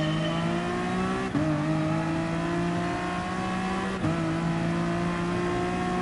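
Racing cars on track in GT Sport, a continuous loud engine drone with steadily rising pitch broken by two quick gear shifts, strong and close throughout.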